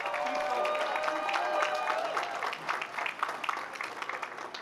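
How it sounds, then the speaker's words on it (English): Audience applause at the University of Virginia Class of 2025 graduation ceremony, a continuous wash of clapping from a large crowd that holds steady, then thins slightly toward the end. "he deserves a round of applause"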